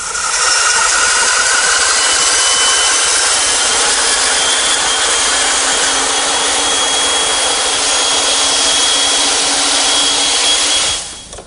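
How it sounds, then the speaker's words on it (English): A bandsaw cuts through wood for a butcher block project, a loud, close, continuous rasping whir that holds steady for about ten seconds before cutting off abruptly, with no talking. "To remove the rest of the material, I'm turning to my bandsaw."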